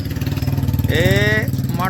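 Two or three motorcycles ride along behind a walking buffalo. A steady, throbbing engine drone runs throughout, and a voice talks over it near the end.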